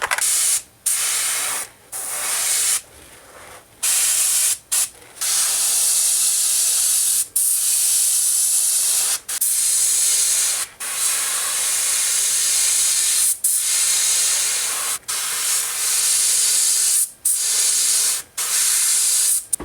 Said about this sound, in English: Time to go with opaque black, and with this I'm going to have to be real careful not to get too much overspray.